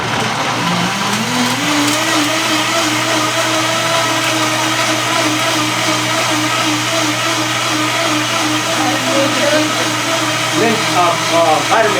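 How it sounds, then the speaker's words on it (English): A Vitamix blender runs loud and steady, blending a cayenne kitchen remedy at a health expo, its motor whine dominating throughout. "All right, so we're gonna blend this up. Alright. It's gonna be a little loud."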